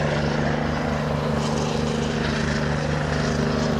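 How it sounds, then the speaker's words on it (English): A helicopter flies overhead above a street, about to land, with a dense, continuous rotor and engine roar that is loud and steady throughout, with no talk. "There go the helicopter. It look like he about to land"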